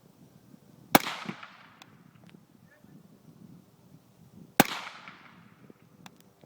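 Two suppressed 300 AAC Blackout rifle shots, each a loud, sharp crack with a short trailing decay, spaced a few seconds apart against a quiet outdoor background.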